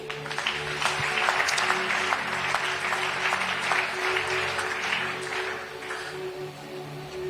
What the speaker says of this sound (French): On acclame Jésus.